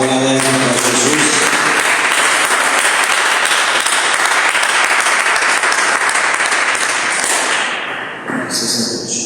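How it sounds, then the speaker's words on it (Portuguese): A church congregation breaking into loud, dense applause for Jesus during a service, a full continuous roar of clapping that tapers off near the end. "Quem pode dar uma salva de palmas bem alegre para Jesus?"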